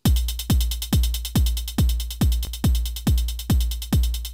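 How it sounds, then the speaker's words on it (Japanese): A driving electronic techno beat programmed in the GS-01M app, regular booming kicks topped by bright, hissy hi-hat ticks, loud and steady with no voices. "これでキックとハイハットが打ち込まれました"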